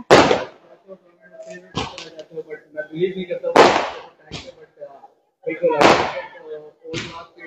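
Street celebrations of India's cricket victory bring several sharp firecracker bangs, loud and close, spaced a second or two apart while someone speaks over and between them.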